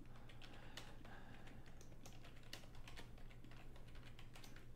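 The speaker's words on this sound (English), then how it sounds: "I'm not the world's fastest typer" Quiet, fast, irregular clicking of fingers typing on a computer keyboard continues for several seconds, close but soft, over a low room hum.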